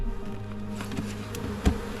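Honey bees buzzing as they are moved between hives by hand, a close, steady buzzing drone with a few sharper passing buzzes and a faint thump near the end.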